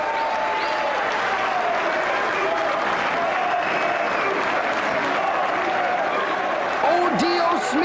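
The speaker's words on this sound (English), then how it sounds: "Everybody on their feet clap." Arena crowd at a 1995 ECW wrestling event clapping and cheering, a loud continuous roar of applause with commentators talking over it.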